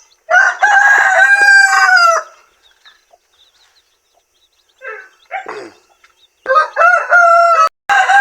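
Roosting chickens, a hen with her young, woken and disturbed: two loud, drawn-out fowl calls open and close the stretch, with brief quieter clucks in the lull between.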